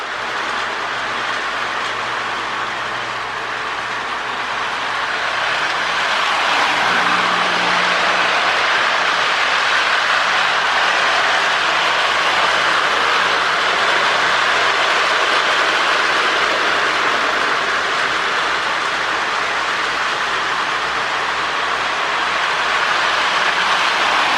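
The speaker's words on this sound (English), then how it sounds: "we'll stop our trains now and give that one more lap to come around" A Lionel MPC-era GP9 model train runs steadily along its track, a continuous rolling rumble with faint clicking, close and fairly loud the whole time.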